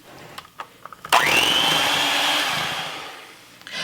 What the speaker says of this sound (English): So I'm going to blend this together till it's nice and creamy with my blender.